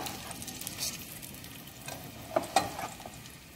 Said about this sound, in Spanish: Vamos a empezar a sofreír la cebolla